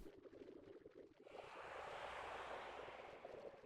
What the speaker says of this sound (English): You can hear it bubbling.